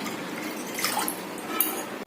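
Water poured into a pressure cooker holding moong dal: a short, close splashing trickle against metal, with a few brighter drips before it stops abruptly.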